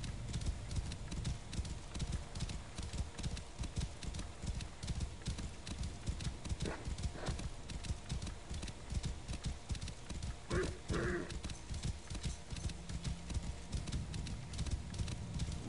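Steady galloping hoofbeats pound throughout, with a couple of short neighs breaking through midway, from the video game Assassin's Creed Origins.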